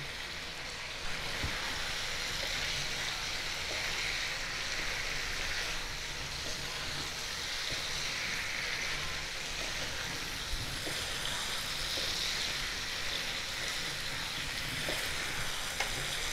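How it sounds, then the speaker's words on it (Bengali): Boiled, fried baby potatoes are added to a fenugreek-leaf masala in a pan, under a steady, moderate sizzle and hiss that continues evenly throughout with occasional faint clicks, no voices. "এখন আমি সেদ্ধ করে ভেজে নেওয়া ছোট আলুগুলো দিয়ে দিচ্ছি।"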